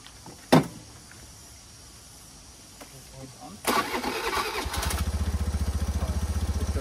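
Motorbike engine starting after a sharp click, with a brief whirring crank before it catches and settles into a steady, rapidly pulsing idle close by.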